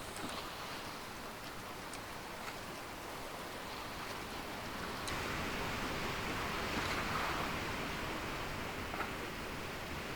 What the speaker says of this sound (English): The waves are still a little stormy, but the storm is quite far.